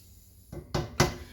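A spoon stirs a pot of chicken bone broth tortellini soup, giving three distinct knocks against the pot at a steady pace, with quiet background between them.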